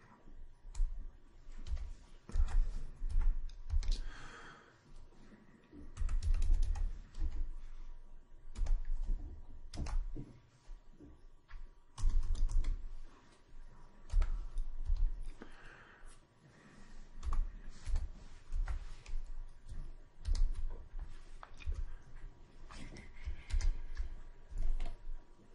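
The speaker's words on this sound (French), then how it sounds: "je tape uniquement le body pour" Steady typing on a computer keyboard, rapid clustered keystrokes and clicks in bursts with short pauses, close and moderately quiet, no voices.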